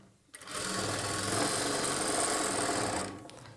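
A sewing machine stitches a plain blouse in one steady run of about two and a half seconds, starting abruptly and stopping abruptly, its close, fast whirring drone holding level the whole time.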